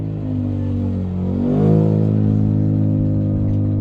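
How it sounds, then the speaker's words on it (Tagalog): Engines of noisy vehicles rumble past on a busy street, with one vehicle rising and sweeping by close and loud midway over a continuous traffic drone. "Ang ingay na mga sasakyan na dumadaan"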